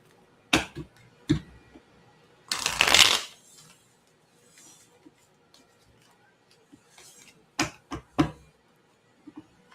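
Tarot cards riffled and shuffled in quick bursts, a longer flurry early on and several sharp snaps later, with quiet gaps between.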